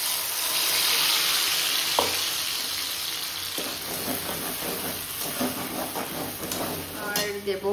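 Poppy seed and chilli paste frying in hot oil in a pan after fish, a steady loud sizzle with occasional stirring scrapes and clinks, fading slightly as it settles.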